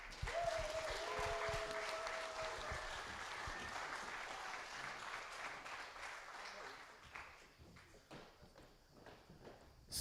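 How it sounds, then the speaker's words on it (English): A conference audience in a gallery hall claps together, a fairly quiet, even patter that thins and fades toward the end into scattered claps. "I like to have a big applause for all the geniuses here on stage."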